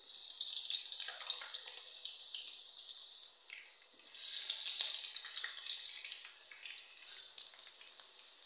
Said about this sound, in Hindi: ऑयल गर्म हो चुका है। हमारी चिप्स तैयार हो रही है।